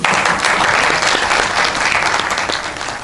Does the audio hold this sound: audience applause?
yes